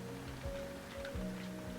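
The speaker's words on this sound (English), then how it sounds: "It is raining today." Steady rain falls outdoors, a soft continuous wash of patter with faint drips, no voices.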